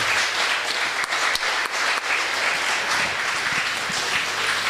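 Audience at a proptech startup pitch competition breaks into loud, sustained applause, a dense steady wash of many hands clapping close by, with no talking heard.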